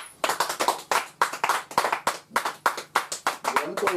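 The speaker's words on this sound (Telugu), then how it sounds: "చప్పట్లు కొట్టండి గట్టిగా." A church congregation claps loudly and in unison at a sermon, sounding as a fast, regular run of sharp, crisp claps close by, with voices mixed in.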